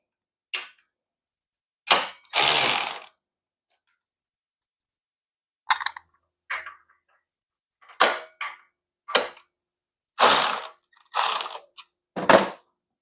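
A wrench loosening bolts on a Harley-Davidson Sportster during a belt-to-chain conversion, heard as short bursts of close ratcheting clicks separated by quiet pauses.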